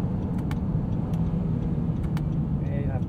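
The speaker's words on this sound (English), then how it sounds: "Plenty of power, torque, acceleration from this V6" A 2020 Honda Ridgeline RTL-E's V6 engine pulls steadily while driving, a constant low drone and road rumble from inside the cabin, with a few faint clicks and jingles on top.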